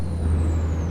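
A Mack truck passing in American Truck Simulator, a deep steady engine rumble with a hissing air release and a falling whine, close and loud, with no speech.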